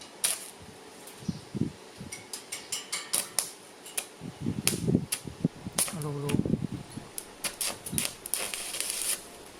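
Rusted holes in a pickup truck's steel cargo bed being patch-welded with filler metal, giving bursts of sharp crackling and popping spits that come and go in irregular runs, with a brief voice partway through.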